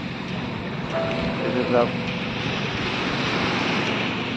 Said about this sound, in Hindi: समुद्र किनारा, पूरा मस्त हवा,